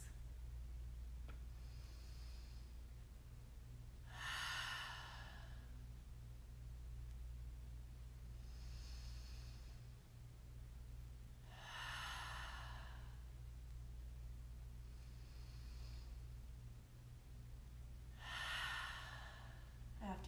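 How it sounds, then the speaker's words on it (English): Three slow, deep cleansing breaths during a yin yoga session, each a long audible exhale spaced about seven seconds apart over a low steady background hum, close and soft with no talk. "we'll take our three cleansing breaths"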